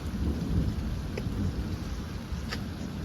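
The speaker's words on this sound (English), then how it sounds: "Oh, fun, it just started to rain." Steady rain falls outdoors with distant thunder rumbling underneath, a continuous wash of raindrops and a couple of faint sharp crackles.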